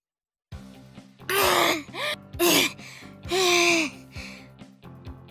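A character in a visual novel game pants heavily out of breath after running, several loud voiced gasping breaths in uneven bursts, close and alone.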